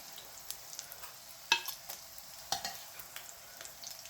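Sausages fry in a pan for a Caribbean dish, giving a quiet, steady sizzle broken by sharp clicks and scrapes of stirring, with no talking.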